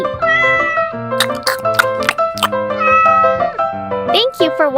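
A cat meows repeatedly, loud and close, a run of drawn-out tonal cries with short gaps and sharper squeaky calls near the end.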